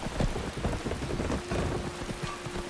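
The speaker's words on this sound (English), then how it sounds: "We're going to use the cover of the rain to kind of hide ourselves" Steady rain falls in a Skyrim game, a dense continuous patter with low rumbling beneath and a faint sustained tone running through the middle, with no voices.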